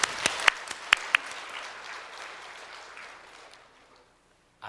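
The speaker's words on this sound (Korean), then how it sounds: "우리 하나님께 영광의 박수를" A church congregation breaks into applause, opening with a few sharp, loud claps. The clapping swells into a broad round, then fades away to near silence.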